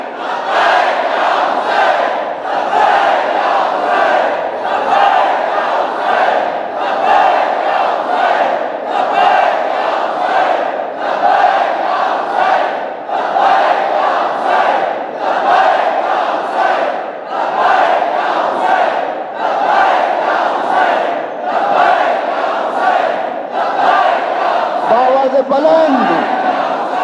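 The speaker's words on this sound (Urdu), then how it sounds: "ہر مرد، ہر عورت اپنے تہہ دل سے اس نعرے کو اپنے اندر لا کر بآواز بلند کہیں گے" A large crowd at a Muharram gathering on the ninth of Muharram loudly chants the religious slogan Labbaik Ya Hussain in steady, rhythmic repeated bursts that fill the whole stretch without pause.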